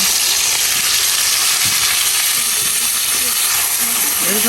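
Soft pabda fish frying in a pan with chili and other ground spices, a loud, close, steady sizzle and hiss with occasional stirring clinks, as a voice talks over it.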